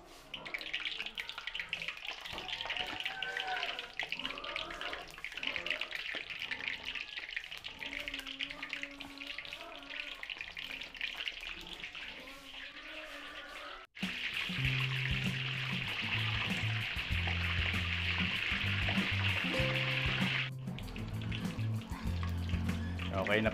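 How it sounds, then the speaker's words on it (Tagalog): Embutido sizzles and crackles in hot oil, a steady frying hiss that grows louder partway through, with occasional clinks and background sounds. "Prito po natin dito yung ating embutido."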